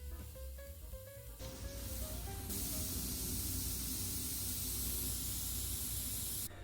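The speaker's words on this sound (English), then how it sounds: "That'll be the air escaping." Air hisses steadily out of a radiator bleeder valve opened with pliers on an oil-fired boiler heating system, a loud, continuous close-up spray that sets in after a short start and holds to the end.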